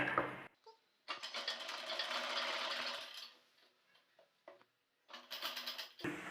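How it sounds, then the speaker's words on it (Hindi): A sewing machine runs a half-inch seam along the gathered edge of a pajama, in two steady whirring bursts separated by a pause, each close and fairly loud, with no talking. "तो इस तरह से आधे इंच में सिलाई लगाएंगे।"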